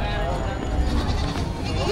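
Goats bleat close by, short wavering cries mixed in with people talking, at a livestock market in Padre Garcia, Batangas.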